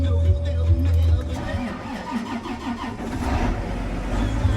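A car engine that sat overnight cranks and catches, then settles into a warming idle with a slight rev, close and fairly loud over faint background noise.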